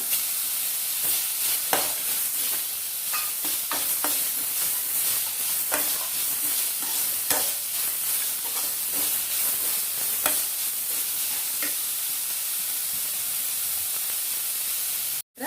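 Grated coconut fries in hot oil for a spicy mint chutney while it is stirred. A steady, close sizzling hiss runs throughout with scattered soft clicks and scrapes from the spoon, and cuts off abruptly at the end.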